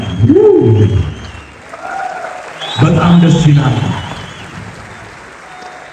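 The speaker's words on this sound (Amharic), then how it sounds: "ጭብጨባ፣ ሞራል ድጋፍ ያስፈልጋል።" An audience at a film premiere breaks into a burst of clapping, with a presenter talking into a microphone before and over the applause, which then fades back under the speech.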